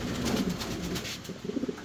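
Fancy pigeons coo softly in low, throaty repeated phrases at a moderate distance, with a faint background hiss throughout.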